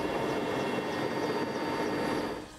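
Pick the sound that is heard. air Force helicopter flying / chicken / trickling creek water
air Force helicopter flying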